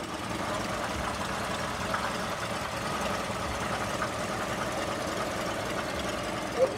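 A 1941 Lincoln Zephyr convertible's 12-cylinder engine idles very quietly at a car show, a soft, even hum with faint fan-belt and fan whir, steady and unbroken with only a small click near the end.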